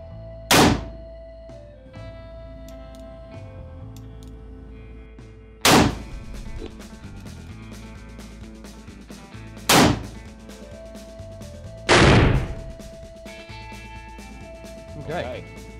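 Several sharp, loud gunshots from an authentic Old West firearm on a shooting range, four main blasts spaced a few seconds apart plus a fainter fifth, with steady low background noise between them.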